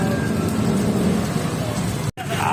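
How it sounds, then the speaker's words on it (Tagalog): Heavy rain pours steadily during a typhoon, a dense continuous roar that drops out for a moment near the end and then comes back. "lakas na ng ulan!"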